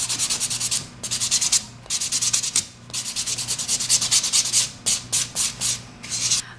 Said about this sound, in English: I'm going to go to your 180 side, gently buff.